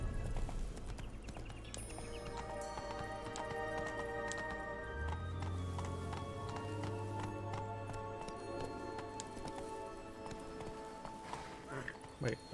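Steady clip-clop of horse hooves while riding in a video game, a continuous trotting rhythm under game music and ambient sound for the whole stretch.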